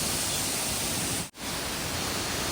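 Sirimane waterfall near Sringeri swollen by monsoon rain, a constant loud hiss of cascading water close by, cut by a brief dropout midway before the roar resumes.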